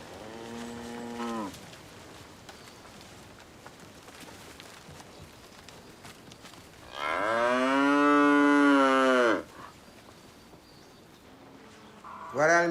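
Cattle low in a field, one cow calling the herd: a short moo at the start, a long loud drawn-out moo in the middle, and another beginning at the end, with quiet outdoor ambience between.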